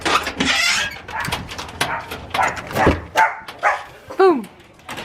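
A puppy yips, barks and lets out rising whimpers close by, mixed with people talking over it in a busy room.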